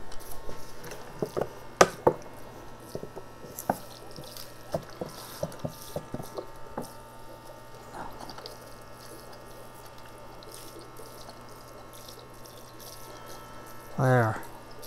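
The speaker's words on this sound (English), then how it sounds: "Let me water it a little bit more." Water poured onto a small potted tree, heard as scattered drips, splashes and soft squishy trickles, fairly quiet, with a brief louder rustle near the end.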